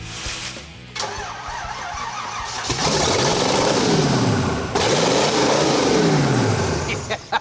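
A classic hot rod Ford F100 pickup truck engine cranks and catches on its first start, then roars with repeated revving surges rising and falling, loud and close, with a voice briefly underneath.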